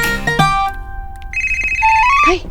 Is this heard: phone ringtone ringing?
yes